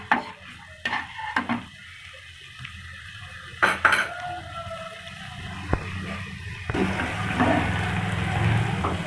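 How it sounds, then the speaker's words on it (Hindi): Utensils clink against a pan, followed by a steady soft sizzle of garlic-ginger paste frying, close by with no talking. "हल्का से इसको फ्राई करेंगे, कलर चेंज होने तक।"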